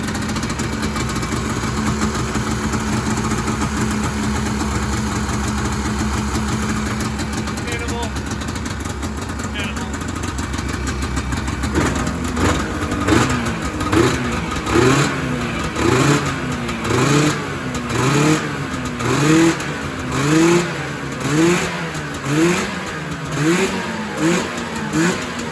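A vintage Yamaha snowmobile engine, running after new spark plugs were fitted and the shroud bolted back on, idles steadily and then revs in a rhythmic series of rising and falling pulls, close and loud, with voices talking over it.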